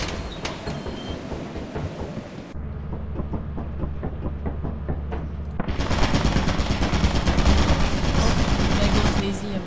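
Rapid automatic turret fire in Lethal Company, a dense mechanical rattle that drops to quick separate shots and then swells into heavy sustained bursts, loud and close throughout.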